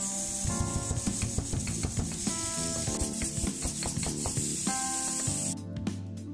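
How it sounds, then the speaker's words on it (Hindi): Dry-roasted fennel seeds are pounded coarsely in a mortar and pestle, giving a fast, steady series of close grinding thuds and gritty scrapes that continue throughout. "इसको ठंडा करके एक खरल में डालेंगे और इसका एक हम दरदरा पाउडर बनाकर तैयार कर लेते हैं।"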